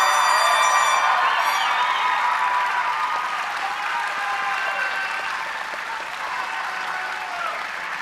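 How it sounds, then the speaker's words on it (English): An audience at a high school graduation ceremony applauds the graduating seniors with sustained, full clapping that fills a large hall, starting loud and easing slightly. A bright tonal whine rings over the first second, and scattered cheers rise briefly. "Please give them a round of applause."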